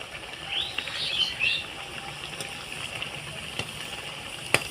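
Moong dal kachori frying in hot oil, a steady bright sizzle with soft bubbling and a few sharp pops, close and continuous without talk.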